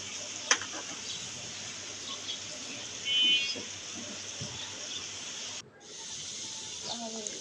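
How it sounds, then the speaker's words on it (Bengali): Spiral-cut potatoes deep fry in hot oil with a steady, even sizzling hiss that holds throughout, briefly dipping once, with a few faint clinks from handling. "একটু সময় নিয়ে এই আলুগুলোকে ভেজে নিতে হবে।"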